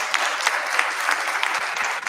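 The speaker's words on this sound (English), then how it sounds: "Can we have a huge round of applause for the panelists?" An audience at a TiECon Delhi investors' panel discussion breaks into applause for the panelists, a dense patter of many hands clapping steadily and fairly near for the full two seconds.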